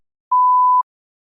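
A single clean electronic beep from a TOEFL practice test cues a spoken response, about half a second, steady and mid-pitched, with silence before and after.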